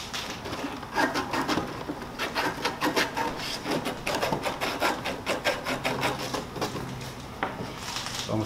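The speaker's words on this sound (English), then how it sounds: "So I'm sanding it good" Steady, rhythmic rasping strokes of sanding on a part from a window-unit air conditioner under repair, close and fairly loud, continuing without pause and with no talking.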